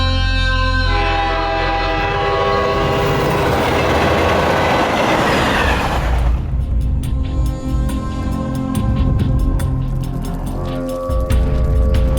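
A train rumbles past at close range, a loud steady roar of clattering wheels on rails with a horn sounding and bright metallic screeches and clicks as the carriages roll by.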